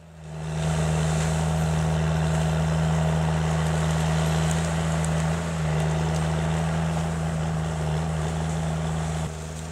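A Huddig 1260B brush clearer with a 6.7-litre Cummins six-cylinder engine and hydrostatic transmission rumbles steadily and loudly at a constant idle-like pace, a deep droning hum running alone for the whole stretch.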